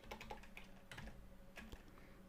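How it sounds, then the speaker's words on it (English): Someone types a terminal command on a computer keyboard, a quiet run of close, uneven key clicks in small bursts with brief pauses between them. "I'm going to type in my username"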